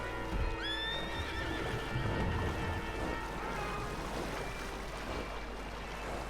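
Horses in the video game Red Dead Redemption 2 whinny and neigh near the start, then hooves clatter under a steady wash of water and wind, with no talking.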